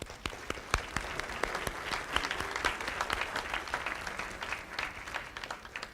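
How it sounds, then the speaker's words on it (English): A warm round of applause for student advisors and parents at a student production awards event: crisp individual claps at some distance, mixed into a steady crowd of clapping that holds for several seconds. "let us give your advisors and parents a warm round of applause"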